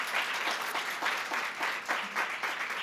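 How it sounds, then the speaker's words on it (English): An audience at a global health data governance panel event gives a round of applause for the panelists, steady moderate clapping from a mid-sized crowd in waves. "please join me in a round of applause for our panelists"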